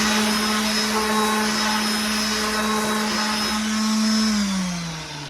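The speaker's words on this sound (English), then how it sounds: "good sanders are held like this, your palm on top of the sander, so that you can feel where the sander is going" A power sander works over a repaired plastic part, a steady loud motor hum with a strong buzzing tone holding throughout, then dipping in pitch near the end as it slows, with no talking.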